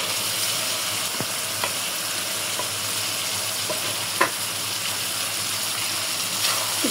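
Eggplant frying in oil with spiced dried fish in a pan, a continuous close sizzle with occasional soft stirring clicks.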